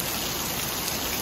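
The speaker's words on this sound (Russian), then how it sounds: "На улице начался жуткий ливень." A heavy rain downpour outdoors during a storm in Kyiv, a dense, steady roar of rain hissing and pattering on surfaces, loud and unbroken with no other sounds or voices.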